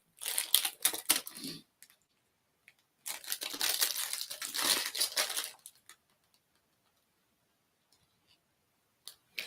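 A taped-shut snack bag is handled and opened with sharp, close crinkling in two bursts, the second longer, followed by near silence and a faint final rustle.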